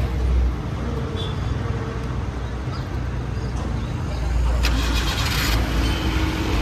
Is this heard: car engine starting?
yes